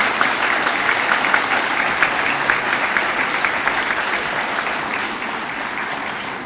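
A large crowd applauds steadily at a high school commencement ceremony, dense sustained clapping filling the hall at an even level throughout, with no speech over it.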